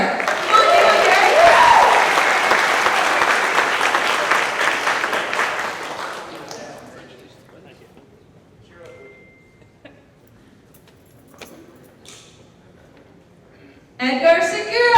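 Loud applause fills a company celebration hall for about six seconds, then fades into quiet room noise with scattered small sounds, before a short burst of clapping returns at the end.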